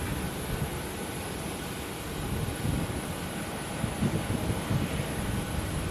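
Distant aircraft engines hum steadily as planes taxi and wait to push back at Sky Harbor International Airport, a broad continuous rumble with low-end swells, no voices.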